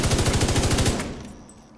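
Automatic gunfire in The Division 2, a rapid, evenly spaced burst of about a dozen loud shots lasting under a second, then a short fading tail, no talking.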